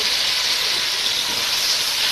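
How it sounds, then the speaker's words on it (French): A wet spatula dipped into hot oil sets off a steady, bright hissing sizzle, close and continuous for a couple of seconds, with nothing else heard. "Vous voyez comment c'est en train de frire là."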